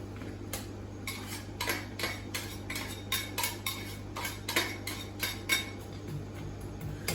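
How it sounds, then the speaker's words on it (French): Onions being stirred in a hot frying pan: a utensil clicks and scrapes against the metal in quick, irregular strokes over a low steady hum, with no talking. "On commence par faire revenir nos oignons dans notre poêle bien chaude."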